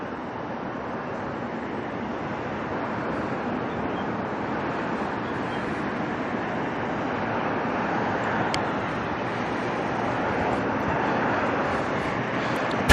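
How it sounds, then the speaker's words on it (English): A Jetstar airliner departing Auckland Airport, a steady broadband jet roar heard from a distance, even and sustained, slowly building slightly louder toward the end. "There's a Jetstar heading out right behind it."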